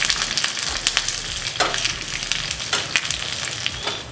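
Dried red chilli and curry leaves fry in hot oil as a tempering for cucumber dal, giving a steady close sizzle broken by bright crackles and the occasional scrape of a stirring spoon.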